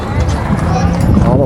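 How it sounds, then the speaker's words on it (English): Horses' hooves clip-clop along a street in a rodeo parade in Phillipsburg, a brief busy clatter from several riders heard under close, continuous talk. "All the horses."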